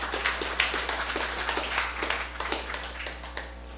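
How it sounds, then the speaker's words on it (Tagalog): A church congregation claps together during a worship service, a quick run of scattered hand claps forming brief applause over a steady low hum. "Isa muna malakas sa palakpak sa Panginoon."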